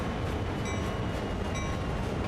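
A freight train rolls on a steep grade in the Train Sim World 2 simulator, giving a steady low rumble of wagons with faint rhythmic wheel clicks and brief metallic squeals, no voices.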